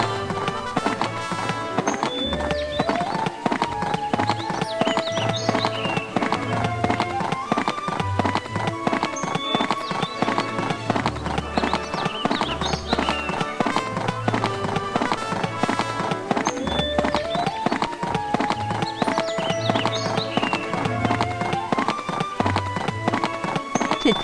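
Horse hooves clip-clop in a rapid, steady rhythm while riding in the Barbie Riding Club video game, the trotting repeating continuously over looping background music.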